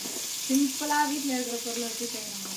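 Chicken curry cooking in a pan gives a constant sizzling hiss under a person talking close by.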